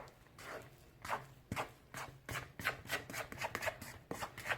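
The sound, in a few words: mixing yeast doughnut dough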